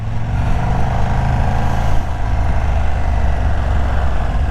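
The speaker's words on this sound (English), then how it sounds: "Standard exhaust doesn't sound too bad, but you know you got to swap it out." A KTM 1390 SDR motorcycle with its standard exhaust holds a smooth, steady engine drone on the road, loud and close with a low rumbling tone and little change in pitch, with no talking.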